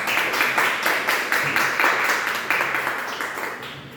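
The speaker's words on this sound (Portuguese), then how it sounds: "aplaudindo o Senhor Jesus" A church congregation claps together in a rhythmic, steady pattern of repeated bursts that continues for several seconds and fades slightly toward the end.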